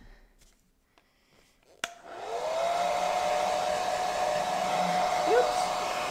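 After a click, a hair dryer starts up and blows with a steady, loud whirring roar to dry a watercolor painting, running continuously to the end.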